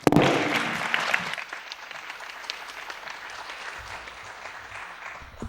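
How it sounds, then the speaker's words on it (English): A lecture audience claps for a guest speaker at an academic talk, a loud burst of applause at the start that quickly thins into scattered, softer clapping over a quiet hall. "let's give a cordial applause to our dear guest"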